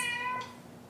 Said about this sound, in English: that's my cat Fred